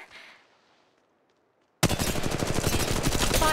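Gunfire in the video game Apex Legends: near-silence gives way abruptly to a loud, dense burst of rapid automatic shots that keeps going for almost two seconds.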